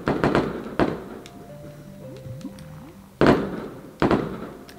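Fireworks in a video game played on a New Year's Eve stream: several sharp bursts and crackling pops spaced apart, with a soft musical tone between them.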